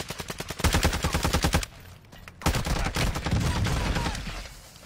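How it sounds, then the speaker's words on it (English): Rapid bursts of video game gunfire crackle loud and close in quick automatic volleys, pausing briefly before another sustained stretch of shooting. "I'm taking fire."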